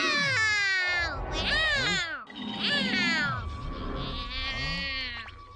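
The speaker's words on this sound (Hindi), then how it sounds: "सिर्फ मियाओ करने से कुछ नहीं होगा।" A cartoon cat meowing in the Doraemon series, drawn-out whiny wails and grunting cries that rise and fall, loud and up close, with animated voices around them.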